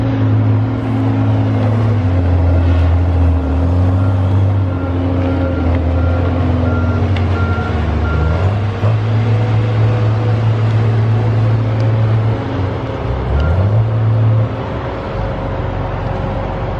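A log loader's diesel engine runs steadily at a Mississippi logging site, a loud continuous low drone with shifting pitch as the revs rise and fall, close and alone with no talk.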